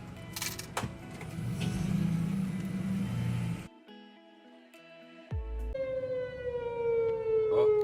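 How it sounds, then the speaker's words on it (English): A civil defense siren sounds during a tornado warning test in a small Georgia town, its loud sustained wail rising and falling over nearby traffic and a car engine, with the tone sweeping through the end. "Guess they got a tornado warning test or something going on here."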